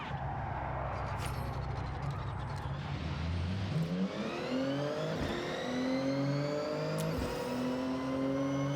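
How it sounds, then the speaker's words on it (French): A race car engine in Forza Horizon revs hard and shifts up through the gears, with rising whine, gear-change dips and strong harmonics, loud and close throughout with no speech. "c'est un bruit de voiture de course"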